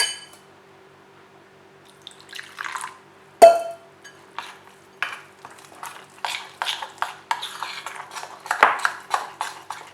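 Potato snack batter being stirred with water in a bowl, close and fairly quiet: a sharp knock at the rim, then a run of soft, rhythmic scraping and wet sloshing strokes.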